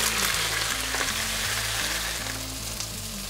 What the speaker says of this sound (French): on va maintenant saisir les morceaux d'écureuil dans la poêle